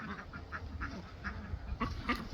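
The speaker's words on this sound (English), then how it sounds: "Hey girl, you got some ducks with you?" Ducks quack outdoors in a series of short, fairly faint calls, a couple of louder quacks near the end.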